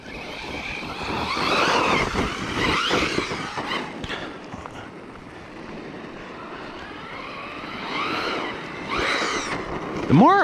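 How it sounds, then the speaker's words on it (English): A Team Corally Kagama 6S RC truck on belted Terraform tyres drives with its electric motor whining, rising and falling through accelerations and ending with a sharp rising whine, near and moderately loud. "The more I drive this truck with this motor, the more I get comfortable with it."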